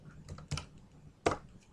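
Grade numbers being entered on a computer keyboard: a few separate, crisp keystrokes close by, with quiet gaps between them and no talk.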